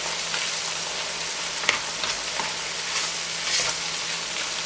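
Minced meat masala with ground red chilli is stirred in a hot pan for keema aloo, giving a steady moderate sizzle broken by a few soft spoon scrapes, with no talk.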